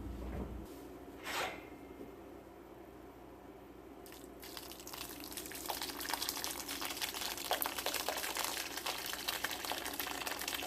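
Whey from a batch of homemade farmer's cheese is dumped out, splashing and gushing steadily into a container, a fairly loud continuous liquid pour after a brief quieter start.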